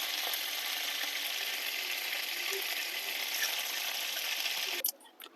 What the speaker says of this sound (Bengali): চিংড়ি মাছ ভাজা হয়ে গেছে, বেশি ভাজবো না